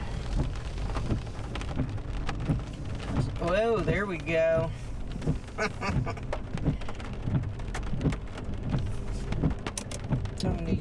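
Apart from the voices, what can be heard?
thunder and rain during an East Texas rainstorm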